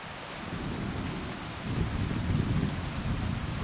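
Thunder rumbles through steady rainfall during a storm in the video game Kingdom Come: Deliverance II, a low rolling swell that builds midway over constant rain hiss, with no voices.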